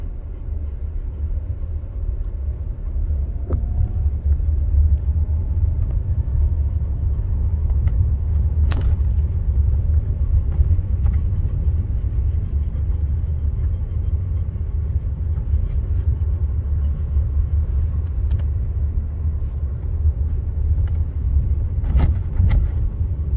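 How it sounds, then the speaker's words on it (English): Kia hybrid car with its gas engine starting and surging out of EV mode, a steady low engine rumble and road drone heard from inside the cabin, fairly loud throughout with a few faint clicks. "Watch what happens when it brings on the gas motor."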